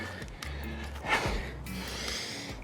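Heavy breathing during a primal locomotion workout, a few loud close snorting exhales and sharp gasping breaths, with no speech.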